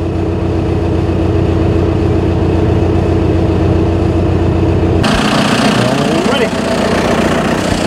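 A tractor engine runs steadily while baling hay in a hot Florida field, a loud close drone that shifts tone partway through, with a person talking over it.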